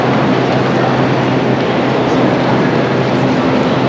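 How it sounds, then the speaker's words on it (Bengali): A bullet train in Laos, heard as a loud, constant broadband rumble and rushing roar with no breaks, close and steady from start to finish. "এই হচ্ছে গিয়ে বুলেট ট্রেন"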